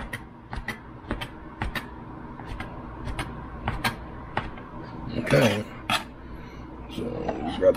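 Leftover fajita steak is chopped into small pieces, a run of irregular, sharp knocks and taps close by, with a few louder clatters near the end.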